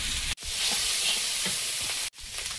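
Chopped onion and shrimp sizzle loudly in a hot pan with whole spices, a close, dense crackling hiss that cuts out briefly twice, with faint stirring underneath.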